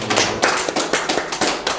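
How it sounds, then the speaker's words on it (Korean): A church congregation claps to welcome first-time visitors during a Sunday service, with a short burst of loud, close hand claps in an uneven rhythm. "우리 박수로 환영하겠습니다."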